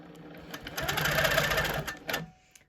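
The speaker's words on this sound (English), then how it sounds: "I will quilt and then I will stop" A domestic sewing machine runs in a short free-motion quilting burst, its motor whirring up, holding a rapid stitching rattle for about a second, then slowing to a stop, close and clear.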